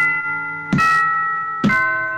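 Electronic mallet-controlled instrument set to a bell sound, two clear bell strikes about a second apart, each ringing with sustained overtones that linger between hits.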